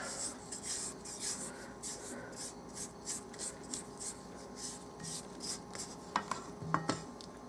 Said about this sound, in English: I'm going to scrape down the side of this pan, or the side of my mixer